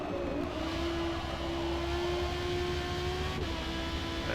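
Ferrari F12 on street tires in a racing game, its engine giving a steady, fairly quiet tonal drone with pitch shifting slightly as it holds revs through a corner.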